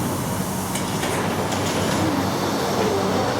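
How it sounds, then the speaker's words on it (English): Automated people mover train at Hong Kong airport approaching its platform: a steady broadband rumble with faint rolling clatter and a light wheel squeal, continuous and moderately loud. "And now it's time to wait for the train, which will arrive in 1 minute."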